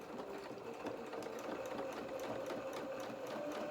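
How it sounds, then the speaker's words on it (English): A sewing machine stitches down the edge of a doll-sized winter dress, a steady, fast, evenly rhythmic mechanical whir that runs continuously and fairly quietly with no voices. "we're going to stitch that edge down just neatly"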